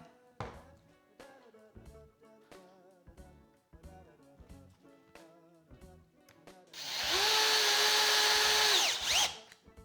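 A power drill bores pilot holes into pallet wood: a run of short clicks and taps, then one loud, steady whirring burst of about two seconds that winds down abruptly.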